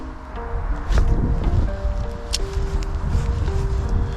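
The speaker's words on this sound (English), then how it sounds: "It's windy again" Cold spring wind gusting beside a UK river during trout fishing, a steady low roar of buffeting against the microphone with faint rustling, no voices.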